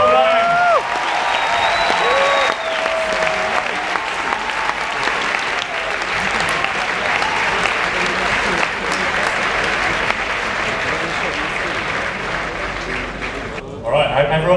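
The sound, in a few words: audience applause at the Rubik's cube championship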